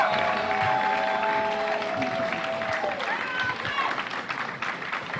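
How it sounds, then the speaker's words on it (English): Audience at a DC candidates' forum applauds the mayoral candidates, moderate clapping with a few cheers fading gradually, mixed with murmuring voices and chatter in the room. "please give them a round of applause"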